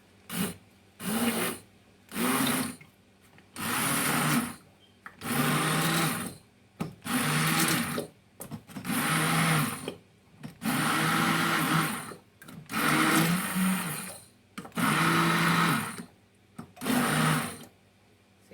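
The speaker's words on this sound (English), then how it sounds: "So I got a little hand blender right here, mixer. And I'm just gonna mix these strawberries up." A hand blender whirs through strawberries in repeated short bursts, about ten pulses of buzzing motor noise separated by brief pauses, close and fairly loud.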